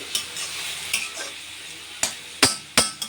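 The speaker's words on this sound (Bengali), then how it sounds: "সব পেঁপেটা দেওয়া হয়ে গেছে, এবার ভালো করে নাড়াচাড়া করে" Papaya pieces and green chillies fry in a pan under a soft, steady sizzle, broken by sharp, irregular clacks and scrapes of a spatula stirring at close range.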